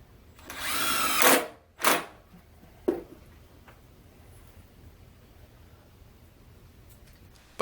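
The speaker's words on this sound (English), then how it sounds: "so you just screw the boards down." A handheld power drill drives screws through boards covering a window, first in one long whirring burst, then a shorter run and a brief blip, with quiet pauses between.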